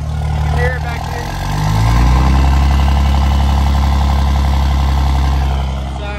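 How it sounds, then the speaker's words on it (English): A 5.9 Cummins diesel in a high-mileage third-generation truck, fitted with a new manifold, turbo and straight-pipe exhaust, idles loud and close with a deep, steady rumble that swells slightly and then holds even. "We're just gonna let it sit here and idle for 2 to 3 minutes just to get everything to kind of work itself in."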